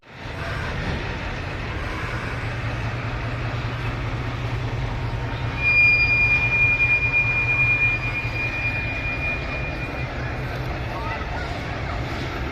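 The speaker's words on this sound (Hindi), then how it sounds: "9 अप अल्लामा इकबाल एक्सप्रेस बदामीबार रेलवे स्टेशन से भी थ्रू पास होगी" Allama Iqbal Express passenger train running through Badami Bagh railway station, a steady loud rumble of wheels and carriages with a brief squealing whine midway, continuous throughout.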